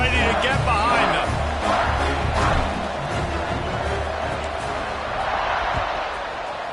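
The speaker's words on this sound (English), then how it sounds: "this crowd now ready to get behind them" Stadium crowd noise from a Madden football video game, a broad steady roar of cheering fans at kickoff, loud and continuous with a few sharper swells early on.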